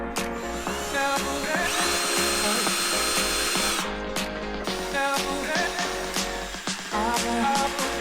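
A power drill bores through a bracket plate for a UHMW plastic skid plate on a 4x4, whining steadily in close, loud bursts with brief pauses between runs.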